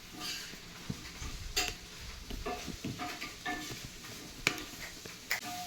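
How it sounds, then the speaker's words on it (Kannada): Onions and red chillies sizzle softly in a pan while a spoon stirs and scrapes, with irregular clinks and taps against the metal over a low, quiet frying hiss. "ಸ್ವಲ್ಪ ಫ್ರೈ ಮಾಡ್ಕೊಂಡ್ಬಿಡೋಣ ಎಲ್ಲ"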